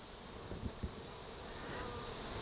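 Honeybees at a hive give off a steady, close buzzing drone that swells slightly, with a couple of soft knocks near the start.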